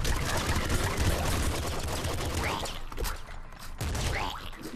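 Rapid SMG fire in the sewer level of the video game Nuclear Throne, fast rattling bursts of shots that thin out briefly midway, then resume with scattered impacts.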